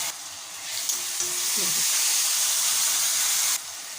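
Tomatoes and ginger-garlic paste sautéing in a pan, giving a steady, loud sizzling hiss that holds for several seconds before easing slightly, with a brief scrape of stirring partway through.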